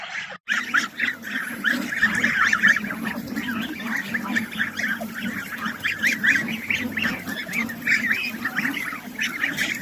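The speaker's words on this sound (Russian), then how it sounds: "Сегодня опять тема про гусей." A flock of geese honks continuously at close range, overlapping calls in a busy, noisy chorus.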